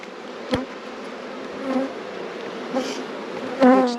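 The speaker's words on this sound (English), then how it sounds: "so they are trying to swarm" A swarm of bees makes a dense, continuous buzzing hum close by, with a few sharp knocks and louder buzzing swells rising out of the drone.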